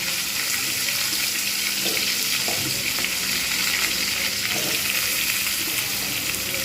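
Vegetables hiss and crackle as they fry in hot oil with cumin seeds for a Bengali rui fish curry, a steady, close sizzle filling the whole stretch with occasional stirring clicks and no talk.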